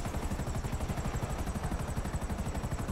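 A helicopter in Grand Theft Auto V flies overhead, its rotor chopping in a steady, rapid pulse over a constant engine whine, loud and continuous with no voices.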